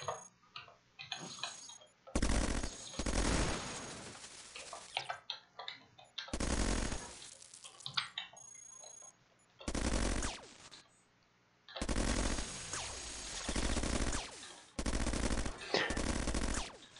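Bursts of rapid automatic gunfire from an enhanced auto gun in the robot game Cogmind, several loud volleys of a second or two each separated by short pauses, with quieter mechanical clicks and beeps between them.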